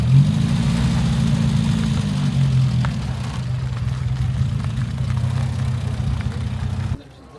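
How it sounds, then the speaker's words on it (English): Beach buggy with a Type 4 engine idling at a classic car meet, a loud, steady low throb close by that softens slightly before cutting off abruptly near the end. "Yeah, that's a Type 4 engine in that."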